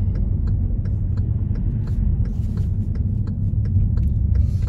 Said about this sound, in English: I'm just driving around the corner